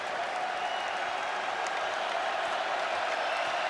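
Crowd at a men's college basketball game, Arkansas Razorbacks versus Southern Jaguars, cheering and applauding after a three-pointer, a dense steady roar of clapping and voices throughout.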